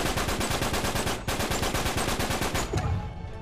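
Rapid automatic gunfire from a video game, a loud, dense, evenly spaced stream of shots that hardly pauses, then stops near the end with a brief trailing echo.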